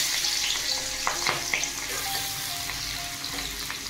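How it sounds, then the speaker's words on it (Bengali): Green chilli and onion sizzling in hot mustard oil, a steady close crackle with occasional sharper pops and stirring clinks, no voices. "তেল গরম হয়ে গেছে। কাঁচা লঙ্কা আর পেঁয়াজ ফোড়ন দিলাম।"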